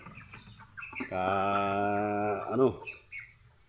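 A single drawn-out, tonal chicken call sounds close by, followed by a few softer clucks and chirps in a quiet setting.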